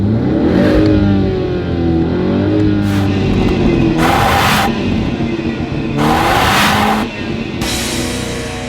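A 2017 BMW 530i with a turbocharged four-cylinder engine accelerates hard, its engine note rising steadily through the gears with brief breaks at the shifts, loud and close from inside the car.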